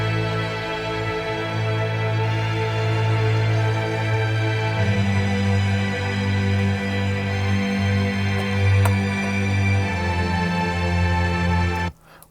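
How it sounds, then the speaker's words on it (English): A soft legato string section holds long, smooth sustained chords that shift gently in pitch, a warm steady orchestral swell playing alone until it cuts off near the end. "the softer part of the string"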